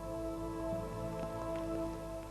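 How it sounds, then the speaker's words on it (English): Steady rain falls at a car stunt record attempt, making a constant dense patter with a hum underneath and no voices. "It's now raining steadily"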